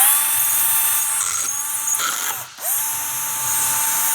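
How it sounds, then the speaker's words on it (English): A close power drill drilling a hole on a Volkswagen Golf R whirs continuously, its pitch dipping as it bites into material, briefly stalling, then spinning back up to a steady whine. "Next, we're gonna drill the hole right next to it."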